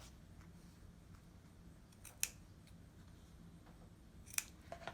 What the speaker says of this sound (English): I clip little V-notches into the end